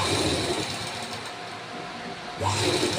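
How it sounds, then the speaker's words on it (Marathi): Sewing machine stitching a boat neck blouse, a steady close mechanical whir that eases slightly in the middle and picks up again toward the end, no talk. "अगदी सावकाश शिलाई द्यायची आणि व्यवस्थित वाकडी तिकडे द्यायची नाही एका सरळ शिलाई द्यायची"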